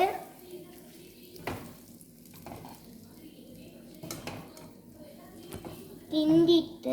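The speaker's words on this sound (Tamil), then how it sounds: "லோ ஃப்ளேமில் வச்சு கிண்டலாம். நல்லா கிண்டலாம்." Beaten egg cooks over a low flame while a spatula scrapes and clatters against the pan, a soft sizzle underneath and people, including a child, talking nearby.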